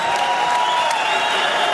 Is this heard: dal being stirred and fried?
no